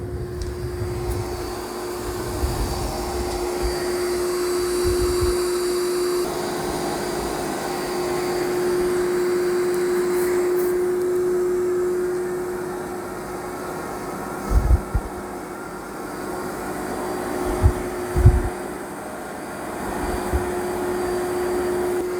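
A Dyson Spot+Scrub AI robot vacuum runs on boost over carpet with a steady whirring drone and a constant whine, broken by a few low bumps and thuds near the end.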